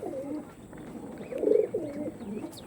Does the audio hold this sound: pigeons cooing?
yes